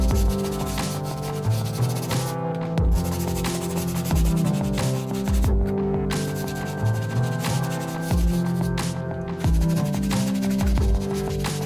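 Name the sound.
hard bristle brush scrubbing shoe soles and midsoles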